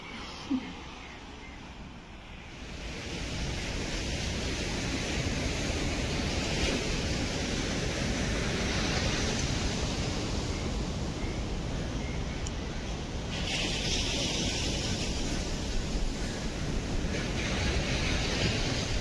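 Sea waves at Velneshwar beach on the Konkan coast roll in as a broad continuous wash of surf with wind rumble against the microphone, steady throughout.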